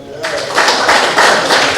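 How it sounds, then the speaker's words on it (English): Audience applause at a Constituency #7 domino league prize-giving ceremony, a dense steady patter of many hands that starts abruptly and continues at an even, fairly loud level to the end. "give a round of applause to Mr. Calvin Farrell"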